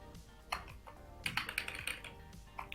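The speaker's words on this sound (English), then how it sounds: "Once we start typing," Typing on a computer keyboard: scattered key clicks, then a quicker run of close, crisp taps, fairly quiet.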